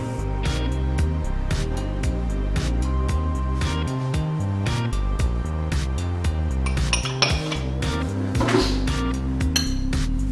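Ingredients for an Aloha burger patty, seasoned with salt and pepper, being mixed together in a bowl, with steady clinking and scraping of a utensil against the bowl under a repetitive background beat.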